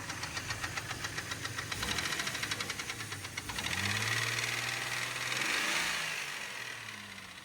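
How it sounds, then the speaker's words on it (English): A Jeep engine with a developing rod knock runs steadily, its rhythmic metallic knocking ticking evenly over a mid-pitched idle hum, close and loud, with a brief rise in revs partway through. "the engine started to develop a rod knock"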